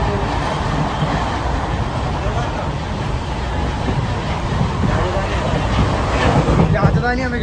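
Train on a long-distance run from Kerala toward Manali gives a continuous loud rumble from onboard, swelling toward the end into a rhythmic clickety-clack of wheels over rail joints.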